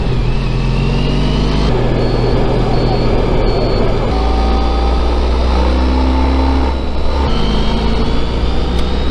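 A Honda ST1300 Pan European motorcycle cruises through long sweeping curves in Maryland, its engine droning steadily with shifting pitch under loud wind rush.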